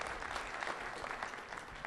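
A crowd claps steadily in a dense, continuous patter of applause, fairly soft and distant.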